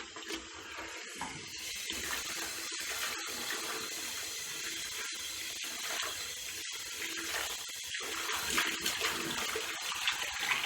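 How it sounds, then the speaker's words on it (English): Tap water runs steadily into a sink filled with shampoo to wash prosthetic hair pieces, a continuous close gush for the whole stretch with no talking. "So I'm just making a little bath of shampoo and hair pieces in my sink here."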